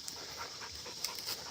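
A Rottweiler pants softly at close range in rapid, rhythmic breaths, outdoors in quiet surroundings with no talking.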